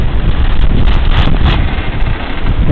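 Violent wind from a lakeside windstorm roars and buffets the microphone in a loud, constant rush with gusty surges, and no other sound comes through.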